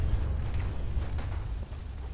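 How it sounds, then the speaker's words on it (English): Explosions in the Fallout 4 video game, a dense, continuous rumbling roar of blasts with low booming weight and crackling bursts throughout, loud and unbroken, with no talking. "So many explosions."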